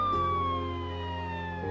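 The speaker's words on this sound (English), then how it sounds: "Suddenly, outside, they hear the sound of a siren." A police car siren wails with a long falling pitch sweep over a steady lower tone, loud and close for the whole stretch, with no voices over it.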